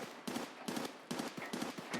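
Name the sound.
gunfire in a video game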